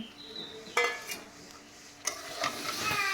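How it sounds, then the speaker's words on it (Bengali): Eggs with browned onion, turmeric, cumin and chilli powder stirred in a pan, with a few metal spatula scrapes and clinks over a faint sizzle, then busier stirring toward the end. "ভালোভাবে নেড়ে চেড়ে মিশিয়ে নেব"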